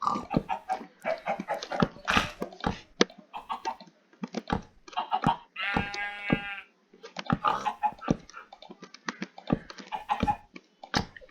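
A dog in Minecraft whines and yelps in a high, bleating burst, surrounded by quick clicks and short electronic effects.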